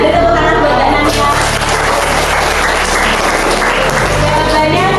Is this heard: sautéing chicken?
no